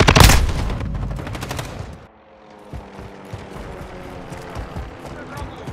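Loud, rapid automatic gunfire bursts in Call of Duty: Modern Warfare II, dense at first and then thinning into scattered distant shots, with faint voice chatter underneath.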